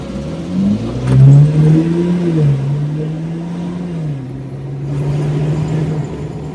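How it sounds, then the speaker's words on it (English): A 2021 Jeep Wrangler exhaust revs up with a deep throaty rise, then settles into a steady rumbling idle, loud and close. "let's just give the exhaust a bit"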